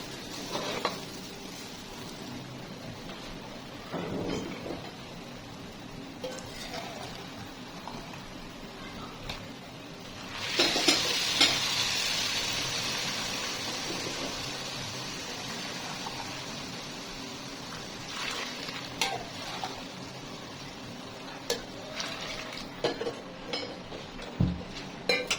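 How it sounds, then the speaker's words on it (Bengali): Spiced rice frying in ghee for hilsa pulao is stirred in a pan, with a louder hiss and sizzle as water is poured in, then scraping stirs and light clinks continue at moderate volume without talk. "পরিমাণ মতো এখন আমি পানি দিয়ে দিই।"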